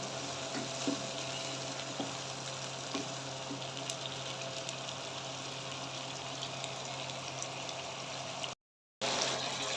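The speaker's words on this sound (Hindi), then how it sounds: "अब मैं इसमें डालूंगी सब्ज़ मिर्ची का पेस्ट। इसको भी अच्छी तरह पकाएंगे" Green chili paste fries with ginger garlic paste in a pan for chicken white karahi, producing a low, continuous hiss of sizzling with faint stirring, no talking, and a short gap near the end.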